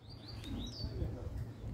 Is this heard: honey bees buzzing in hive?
no